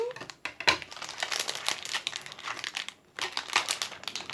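A toy package's plastic wrapper crinkles and crackles in bursts as it is handled and opened nearby, with a short pause midway before the rustling resumes.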